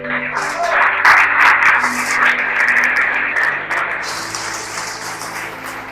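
A church congregation breaks into loud, sustained applause, a dense wash of clapping that fills the room before slowly easing off.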